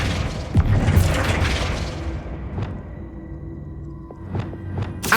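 Flipendo spell cast in Hogwarts Legacy, a heavy booming thud with a rumbling whoosh at the start, followed by a few sharper magical hits and thumps toward the end.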